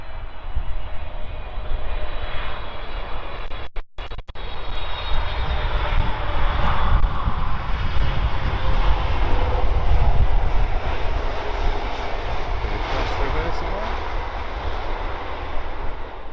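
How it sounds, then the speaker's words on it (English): A LATAM Boeing 777-300 widebody jet airliner passes at London Heathrow, its deep engine roar loud and sustained across the whole stretch, building toward the middle and easing off gradually, with no voices. "LATAM's big Boeing 777-300, and that has come all the way from Sao Paulo."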